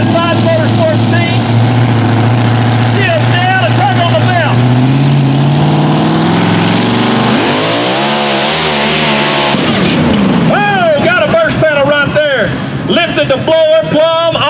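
A 2000-horsepower supercharged mud truck engine roars loud and steady at the line, then a sudden shift as the blower blows off, with an announcer talking over the noise.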